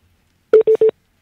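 A phone keypad dialing a call, three short even touch-tone beeps in quick succession, clear and close against silence.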